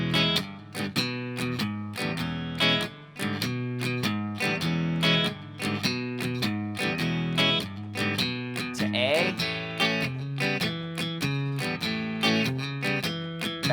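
A guitar plays the opening eight bars of a song in E, a steady rhythmic run of plucked, ringing notes and chords, close and clear, with no one talking over it.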